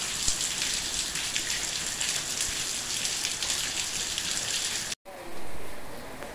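Heavy rain pours steadily over João Pessoa, a dense continuous hiss that holds level for about five seconds before cutting off abruptly, then returning briefly in a softer, duller form.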